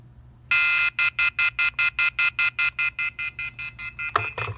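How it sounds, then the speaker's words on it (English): Howler off-hook warning tone on a Stanford dorm telephone, heard as a loud, steady run of rapid electronic beeps in a regular pulsing rhythm that fades slightly before some clicks at the end. "there you heard some howler off hook tone, which is pretty loud"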